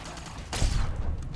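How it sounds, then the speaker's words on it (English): A short burst of enemy gunfire in Fallout: New Vegas, one loud sharp blast over a steady game-sound background. "Oh, he's shooting at me."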